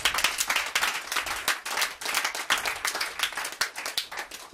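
A church congregation clapping to acclaim Jesus Christ, brisk continuous applause from many hands filling the room with no talk over it.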